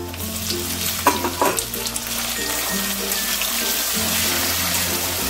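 Tomato added to onions already browned in a pan, frying with a steady hiss and crackle and a few scraping knocks early on, close and continuous with no talking.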